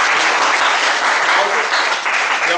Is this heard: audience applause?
yes